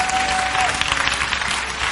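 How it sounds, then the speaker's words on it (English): A church or lecture audience claps loudly in a brief burst, a dense wash of hands from a crowd with a faint hint of a voice underneath. "If you believe that, clap real loud."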